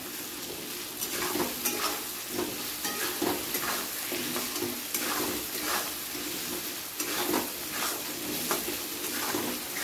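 Onions and salted potatoes frying in a pan, a loud continuous crackling sizzle with regular bursts of scraping as a spatula stirs through them, close and steady throughout.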